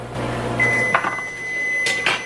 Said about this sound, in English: Getting it out of the microwave.